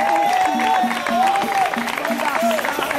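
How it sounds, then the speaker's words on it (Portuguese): Congregation at an evangelical crusade in a Minas Gerais neighbourhood claps together, a steady rhythmic applause heard moderately close, with a voice speaking over it throughout. "Quem pode dar uma salva de palmas"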